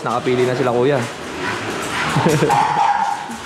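Puppies yip and whimper at a dog seller's place in Baliwag, Bulacan, where a family has just picked one out; short high barks rise near the start and again later, under and between a man's speech.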